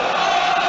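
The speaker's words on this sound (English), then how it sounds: "The crowd, they've lifted the crowd now" Football crowd at an Arsenal home Premier League match against Fulham roars loudly, a dense, sustained wall of voices filling the stadium.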